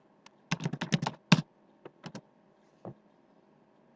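Password typed on a computer keyboard: a quick burst of close, crisp key clicks, then a few scattered taps and a final keystroke in a quiet room.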